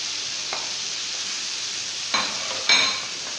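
Soft, steady sizzle of cluster bean sabzi with tomatoes frying in a pan, with a few brief scraping stirs of a spoon near the end.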